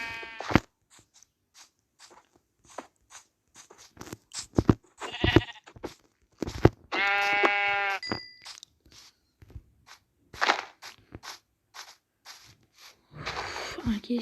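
Sheep in the video game Crafting and Building bleat a few times, short nasal cries among crunchy block-breaking clicks and footsteps, fairly quiet and spaced out over the stretch.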